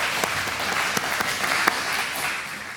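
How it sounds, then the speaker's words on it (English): A small audience applauding in a room, a steady wash of clapping with a few sharper individual claps standing out, lasting the whole short stretch at moderate loudness. "Oh, you're clapping now."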